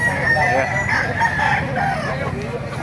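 Chickens clucking and a rooster crowing at a poultry market in Baliuag, Bulacan, a dense, continuous mix of nearby fowl calls with voices talking underneath.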